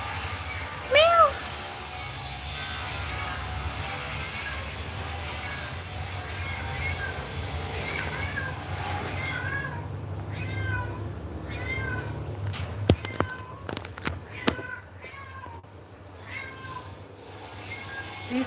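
Several cat meows ring out outdoors, some close and loud, others softer, in an irregular series over steady low background hum, with a person talking intermittently and mimicking meows.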